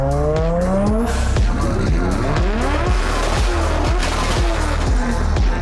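Mazda FD RX7 with a rotary engine, loud and close, its revs rising and falling through rapid repeated sweeps with tire squeal, steady and continuous with no talk.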